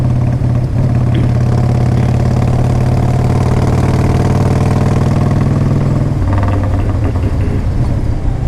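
A carbureted 1994 Harley-Davidson Fat Boy motorcycle idles loudly up close, its deep, uneven engine rumble holding steady, then dropping slightly in pitch near the end.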